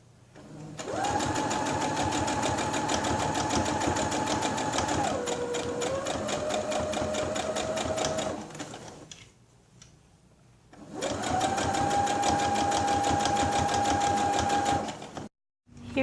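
A sewing machine stitches elastic onto a GroVia hybrid cloth diaper shell in two long, loud runs of rapid mechanical whirring, its pitch dipping briefly as it slows, separated by a short quiet pause.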